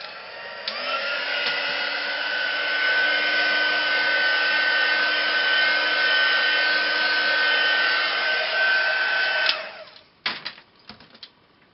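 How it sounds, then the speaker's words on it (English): A heat gun blows steadily for about nine seconds, drying a mixed media craft tag, then cuts off and a few light clicks and taps follow. "I'm just going to go over this with a heat gun just to dry it off a little bit."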